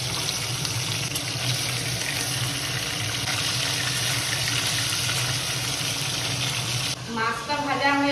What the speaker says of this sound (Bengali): মাছটা হালকা করে ভাজতে হবে। এখন আমি আর একটা পিস দিয়ে দিচ্ছি।